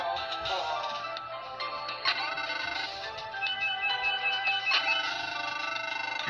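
Phone ringing with a repeating synthesized ringtone melody, loud and continuous from start to end, alone without speech.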